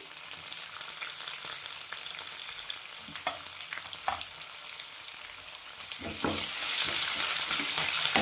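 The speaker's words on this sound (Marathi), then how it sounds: "त्याच्यानंतर हिरवी मिरची हे पण छान भाजून घेऊ." Green chillies roasting with garlic and chana and urad dal in a pan make a continuous hissing sizzle, with scattered spatula scrapes and taps; the frying grows louder toward the end, and no one talks.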